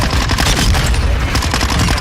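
Rapid, dense gunfire from the video game Modern Warfare 2, with continuous loud overlapping shots and bursts that fill the full two seconds without a break.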